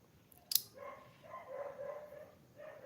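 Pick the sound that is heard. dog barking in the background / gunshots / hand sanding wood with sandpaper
dog barking in the background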